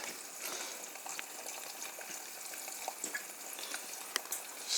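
Eggs cooking in butter in a pan for a tortilla wrap, a faint, even hiss with a few light crackles and pops, no voices.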